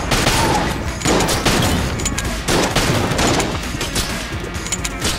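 Rapid, dense bursts of gunfire from the game Enter the Gungeon, loud and close, firing in near-continuous volleys with brief gaps between clusters of shots.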